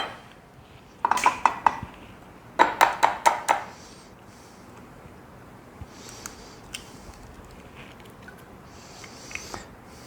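Ceramic and metal dishes clink and clatter close by as a bowl is fetched and handled in a home kitchen while baking magic pies, two quick bursts of rattling knocks followed by quieter scattered taps.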